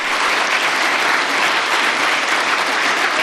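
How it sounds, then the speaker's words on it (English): Loud, dense applause from a large crowd at a political gathering, a continuous wash of clapping at full strength from start to finish with no speech on top. "Why is he getting applause for that?"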